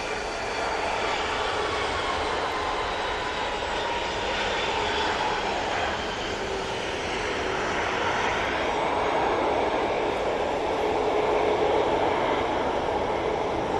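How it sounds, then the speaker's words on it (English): A Cathay Pacific airliner lands at Manchester Airport, its engines giving a steady, loud, broadband roar that holds throughout with no talking over it. "Cathay Pacific has landed"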